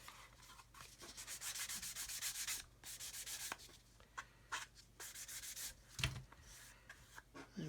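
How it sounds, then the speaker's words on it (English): Fine 1000-grit sanding sponge rubbed over a model B-52 control surface, giving steady, close back-and-forth scratchy strokes in rhythmic bursts with brief pauses, quiet overall and without talking. "I'm going to go over it with a 1000 grit sponge"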